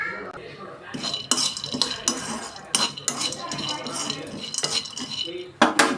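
Pistachios rattle and scrape as they dry roast in a pan while a utensil stirs them, with clinking metal taps in an irregular rhythm, close by.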